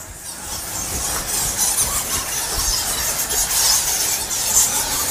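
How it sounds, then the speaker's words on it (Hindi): Many bats squeal high and shrill, overlapping constantly inside a cave, with a faint rumbling background underneath. "यहाँ पे चमगादड़ बहुत है भाई, ओ भाई खतरनाक सी आवाज़ें कर रहे हैं"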